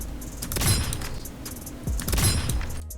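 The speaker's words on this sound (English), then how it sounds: "You hear the gunshot and then the headshot sound," Gunfire in the Krunker browser shooter with lag compensation set to 0: two sharp shot-and-hit bursts about a second and a half apart, each a loud gunshot followed by a headshot impact sound, with game noise between them.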